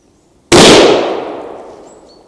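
A single loud rifle shot from a Haenel Jaeger NXT straight-pull rifle in .30-06 cracks out sharply, then rings off in a long, fading echo across open ground.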